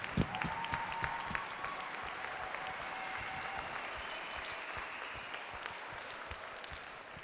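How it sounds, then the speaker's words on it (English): A convention audience at a closing ceremony applauds steadily, dense clapping from a large crowd sustained evenly from start to finish with no voices on top. "So I want you all to give yourselves an amazing round of applause"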